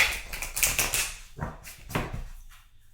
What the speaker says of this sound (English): Let's get a clean riffle shuffle on these.